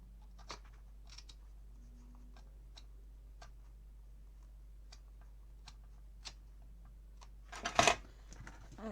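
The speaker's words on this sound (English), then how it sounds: "I'll come in with my scissors and cut it at an angle." Scissors snipping card paper at an angle in a quiet room, a few sparse crisp clicks and cuts spread across several seconds, with one louder burst of handling near the end.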